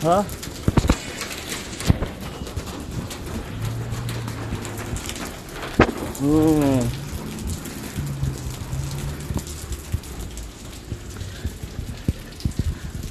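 Heavy rain in Riyadh, Saudi Arabia: a steady patter of rain on surfaces with splashing drops and scattered knocks, under nearby voices talking for most of the stretch.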